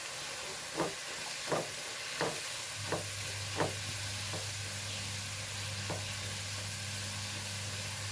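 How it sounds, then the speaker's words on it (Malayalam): Garlic frying in a pan for a chicken dish while being stirred: a constant low sizzle with a series of spaced utensil scrapes and clinks over the first few seconds, then a steadier frying hiss. "ഇളക്കി കൊടുക്കാം"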